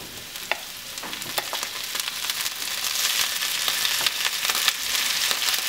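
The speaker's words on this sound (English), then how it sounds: "Once the garlic starts frying, just before get brown, we're going to add the beans." Garlic and green beans fry in olive oil over high heat, giving a steady close sizzle with scattered crackles and pops that grows slightly louder.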